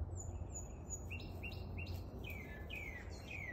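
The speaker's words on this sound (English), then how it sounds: "that bird is chatty" A bird chirps in a quick series of bright, repeated tweets, several short calls in a row over a low background hum, fairly clear and close.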